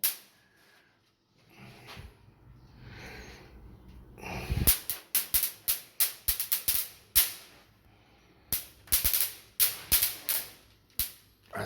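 A rechargeable electric mosquito racket zaps insects in a series of sharp, crackling snaps, first a quick burst of pops and then more spaced bursts, loud and close, with no talking and a quieter lead-in before the first strikes.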